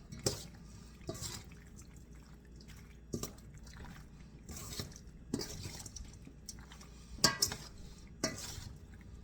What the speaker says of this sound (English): We'll get it in a serving bowl after I get it all tossed.